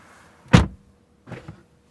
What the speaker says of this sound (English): Door closing sound once again.